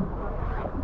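Steady engine drone and wind rushing past on a motor launch travelling north along a river, a constant broadband roar with no pauses.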